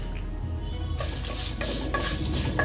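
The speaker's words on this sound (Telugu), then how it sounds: "10 నుంచి 15 ఎండు మిర్చి వేస్తున్నాను" Dry red chillies fry in a pan for a drumstick-leaf stir-fry, with a utensil scraping and clinking against the pan over a soft sizzle; close, uneven stirring strokes and no talk.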